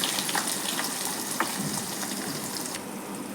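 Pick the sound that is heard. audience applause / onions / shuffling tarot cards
onions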